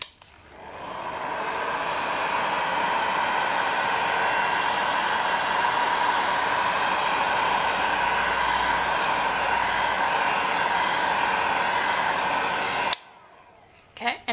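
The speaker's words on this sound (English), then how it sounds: "I am actually concentrating the heat gun around here, because I don't want to be curing the top just yet" Heat gun blowing hot air steadily over resin on a fire opal pendant, a loud constant broadband whoosh lasting about thirteen seconds before cutting off abruptly.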